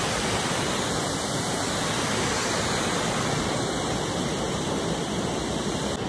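A waterfall pours with a steady, dense roar, close and constant throughout, with no voices.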